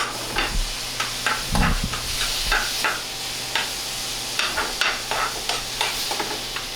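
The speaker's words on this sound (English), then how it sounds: "I want to saute it quick because I wanted the tomatoes to wilt up." Tomatoes sautéing with pepper and salt in a pan, a continuous sizzle broken by repeated scraping and stirring clatters of the utensil.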